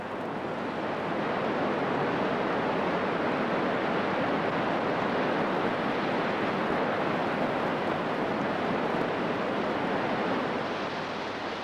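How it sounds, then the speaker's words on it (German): The Rio Apurimac rushes beneath an old grass suspension bridge, a dense, unbroken roar of flowing water that holds steady and loud throughout with no voices. "Dies ist ein solcher Fluss, der Rio Apurimac."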